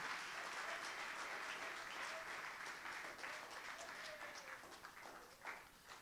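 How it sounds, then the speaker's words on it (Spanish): A church congregation applauds for the Lord during a Spanish-language worship service, sustained clapping from a full room that continues steadily throughout with a faint tonal hum beneath. "dé ese aplauso al Señor"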